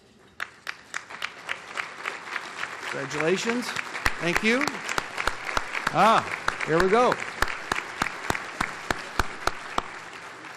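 At an economic forecast breakfast, an audience gives elected officials scattered, distinct hand claps that go on steadily throughout, while someone speaks briefly over the clapping.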